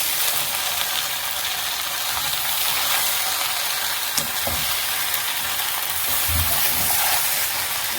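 Capsicums frying in a small pot while being stirred, a steady dense sizzle with scraping utensil knocks and a few louder clatters near the end, no voices.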